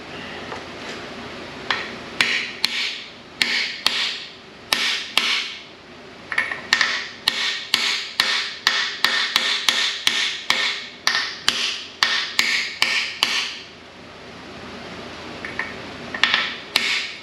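A hammer taps a shellac-sealed freeze plug into a 440 crack engine block on a Dodge Power Wagon build, giving a long run of sharp metallic taps, close and rhythmic, sometimes in quick bursts with short pauses between.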